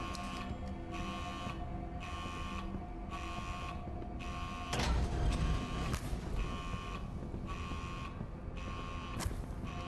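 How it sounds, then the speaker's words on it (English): Alarm in the horror video game Edge of Sanity, a loud electronic buzzer pulsing in an even on-off rhythm over a constant hum, with a brief thud partway through. "That's some kind of alarm."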